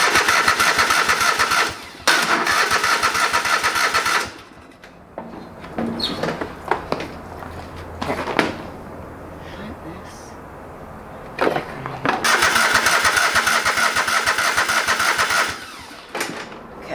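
Old lawn mower engine cranked repeatedly after brake cleaner goes into the carburetor, loud rattling bursts of cranking that stop and restart, with someone speaking in the quieter gaps between attempts.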